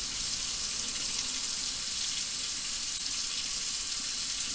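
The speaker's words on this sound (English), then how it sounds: "Water's getting hot over here in the sink." Water runs from a sink tap in a lab, a steady, loud hissing stream that holds evenly from start to finish with no talk.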